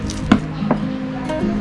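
An onion being chopped with a knife, two crisp blade strikes landing on the board over a steady low background hum, close and moderately loud.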